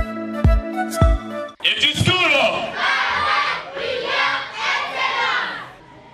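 A school prize-giving crowd breaks into loud cheering and shouting with mixed voices, following two sharp low thumps at the start, the roar sustained and fairly close throughout.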